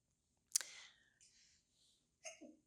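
A single sharp sneeze bursts out nearby, followed by a soft breathy sound and a short second exhalation in an otherwise quiet room.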